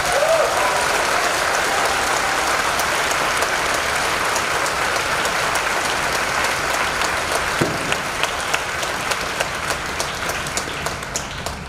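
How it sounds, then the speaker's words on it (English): Steady audience applause at a high school commencement ceremony, a dense wash of clapping that fills the whole stretch with a few sharper claps near the end. "Let's give the teachers another round of applause."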